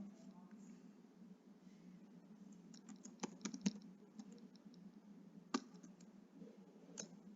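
Computer keyboard keys tapped while a password is entered: a quiet, irregular run of light clicks clustered in the middle, then a couple of sharper, isolated keystrokes over a low room hum.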